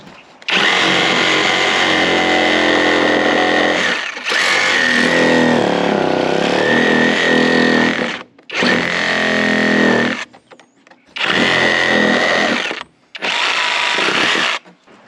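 A Bosch 18V cordless saw cuts slowly in several long bursts with brief pauses between them, its steady high whine loud and close throughout, with no talking.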